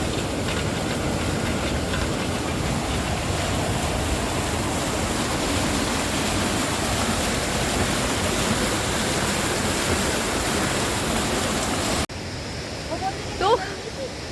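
A water-powered grain mill in the hills of Uttarakhand grinds rapidly as water flows beneath it, making a loud, continuous rumbling rush that stops abruptly near the end, leaving quieter ambience with a faint chirp.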